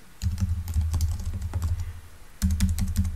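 Rapid typing on a computer keyboard while coding, heard as dense bursts of close clicks, a short pause, then another flurry, with a steady low hum underneath and no voices.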